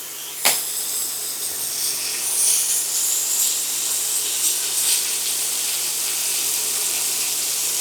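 Chicken livers fry in brown butter with a steady close sizzle and scattered crackles, one sharp pop near the start. No one speaks.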